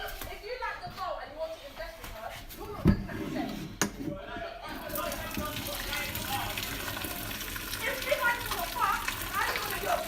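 Liquid drains away and drips, a low continuous trickle with a few sharp drops and knocks, fairly close, while someone talks over most of it.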